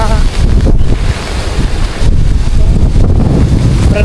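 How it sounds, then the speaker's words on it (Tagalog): Strong gusts from Typhoon Uwan batter the microphone, a loud, roaring buffet that surges and dips in waves, with brief faint voices beneath. "So medyo may hangin na ngayon."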